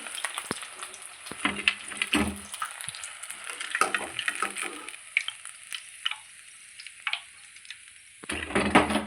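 Fish fry coated in rava crackles and sizzles in a pan with bursts of spattering and short clatters, close and moderately loud, easing off briefly before flaring again near the end.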